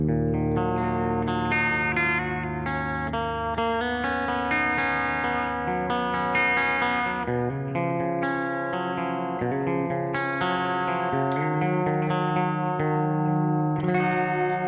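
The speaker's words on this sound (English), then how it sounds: "this reverb to me sounds very tight compared to everything else." Electric guitar chords ring through a NUX Verb Core Deluxe reverb pedal, a full, sustained and tight-sounding wash of chordal tones that plays continuously and evenly at a steady level with no talking.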